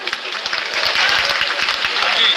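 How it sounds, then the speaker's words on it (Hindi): At a gathering, an audience applauds officials on stage with a loud burst of rapid, dense clapping from many hands. The clapping is close and continuous for the whole stretch. "एक बार जोरदार तालियां मंच पर उपस्थित 11 अंचलकारी साथियों के लिए"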